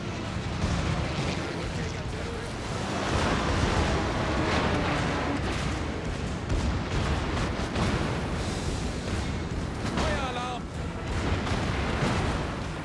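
Graf Zeppelin's secondary guns fire on the battleship Yamato in World of Warships, a continuous barrage of overlapping booms and rumbling blasts, loud and dense, while someone talks over the gunfire.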